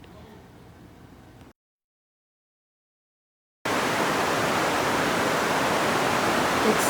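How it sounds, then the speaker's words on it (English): Heavy rain pounding on a greenhouse roof roars as a dense, steady hiss, loud and close, breaking in suddenly after a quieter stretch and a moment of silence. "the rain is just pounding on the top of the greenhouse"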